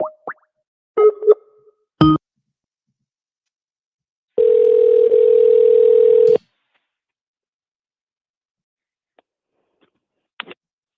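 A telephone dial tone hums steadily for about two seconds, loud and close, after a few short plops and clicks from handling the phone, with brief faint ticks later and no talking.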